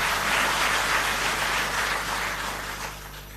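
Sustained applause from a gathered crowd for Delhi Jal Board officers and staff at a public event, a dense steady patter of clapping that slowly fades toward the end.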